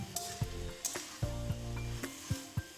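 Spinach and mixed vegetables cook in their own released water in a pan, with a soft sizzle. A spoon stirs them in regular scraping knocks that recur every half second or so. The sound is fairly quiet and close.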